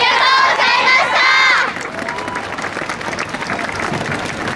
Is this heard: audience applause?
yes